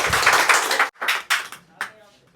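A class of mobile-repair students clapping for a classmate, a dense burst of claps that breaks off, followed by a few short scattered clapping bursts that fade out.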